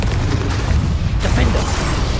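A Confringo spell explodes in Hogwarts Legacy, a loud, dense booming blast that roars continuously with a short dip midway, close and full, with no speech.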